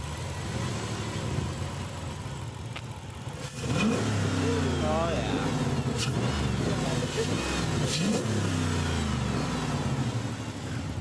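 Car engine runs and revs after a cold air intake install, a steady idle that rises into several revs mid-clip, with people talking and exclaiming nearby.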